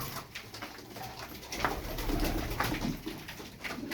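A pigeon, a marked-tail white female, cooing in a loft: soft, low, rolling coos repeated close by over a steady background hum, with no talking.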